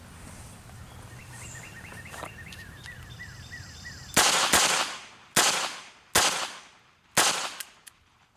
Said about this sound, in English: this is going to be from the holster. 5 shots, 12 feet, rapid fire